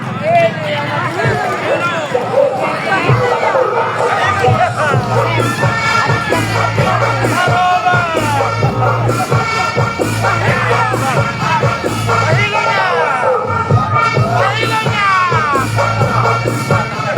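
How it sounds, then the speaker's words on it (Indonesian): A large crowd at a PKB political meeting in Sumba Timur, Indonesia, cheers, shouts and claps loudly and continuously, with an amplified voice speaking over the din. "Untuk itu mari kita jemput dengan tepuk tangan yang paling semangat Ketua PKB Sumba Timur, Bapak Haji Abdul Sama"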